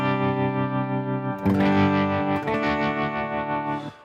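Clean electric guitar tone with tremolo played through a Kemper amp profiler: sustained, ringing chords with a fresh strum about midway, steady volume and a soft wash of modulation, played alone.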